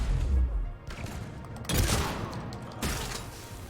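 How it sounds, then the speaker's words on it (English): Rapid SMG fire in Mass Effect 3, a dense burst of close, loud gunshots that comes in several waves with short gaps between them, with heavy low thumps and no speech. "That SMG that I gave her shoots really fast and kicks like a mule."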